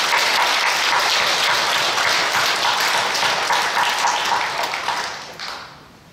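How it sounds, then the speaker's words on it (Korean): A church congregation applauding in a worship service, sustained crowd clapping at an even level that fades away near the end, with no talking. "하나님께 우리 박수 한번 올려드리겠습니다"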